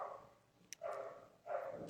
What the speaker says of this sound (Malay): Korang dengar bunyi anjing.